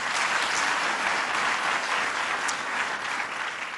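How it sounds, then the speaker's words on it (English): A conference audience at the US Muslim Entrepreneur conference breaks into dense, steady applause: many hands clapping together at an even level that stays strong throughout. "So please give them a big round of applause."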